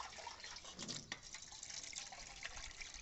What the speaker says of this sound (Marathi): त्यासाठी एक प्लेट घेऊन अशा पद्धतीनं पाणी देऊन पूर्ण टब भरून घ्यायचा